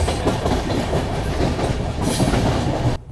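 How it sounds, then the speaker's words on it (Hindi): The Pawan Express, pushed by banker locomotives, accelerates on the Kasara ghat section, making a loud, steady rumble with rhythmic wheel clatter heard from on board until the sound cuts off abruptly. "देख सकते हैं हमारी ट्रेन ने क्या तेज़ी से स्पीड पकड़ी है।"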